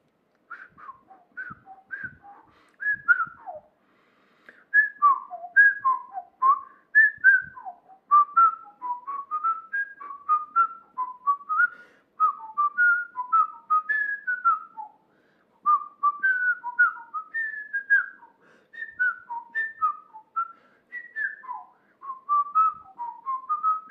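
A person whistles a melody composed as a musical theme, with lively, bright phrases separated by short pauses over about twenty-four seconds, solo and close.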